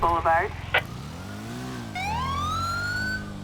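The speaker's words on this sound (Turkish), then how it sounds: "Aç sirenleri de." A police siren in the video game GTA 5 wails as a single rising tone, steady and loud, following short bursts of engine and game noise.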